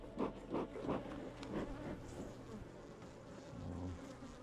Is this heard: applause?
no